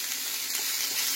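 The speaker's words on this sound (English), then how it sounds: "We got our green peppers and onions cooking." Green peppers and onions frying in a pan give a steady, bright sizzle, close and continuous for a brief moment with no talking.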